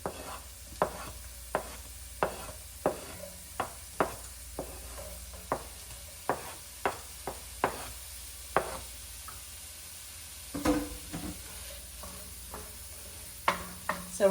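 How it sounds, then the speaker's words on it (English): Diced onion and red pepper sauteing in a pan, heard as a faint steady sizzle broken by repeated sharp clacks of a utensil stirring and scraping at an uneven rhythm, with no talking. "So here we have our diced onion and red pepper. Those are gonna go in and get sauteed."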